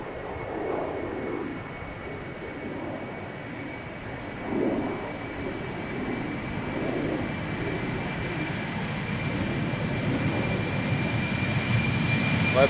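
A sixteen-year-old KLM airliner on flight 1285 departs Amsterdam Schiphol Airport, its engine roar a steady broad rumble with a high whine that builds gradually louder over the span, heard alone without voices.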